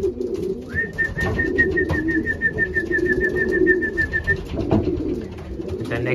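Racing pigeons cooing in their loft, a close chorus of low rolling coos overlapping through the whole stretch, with a thin sustained whistle-like tone running above them for several seconds.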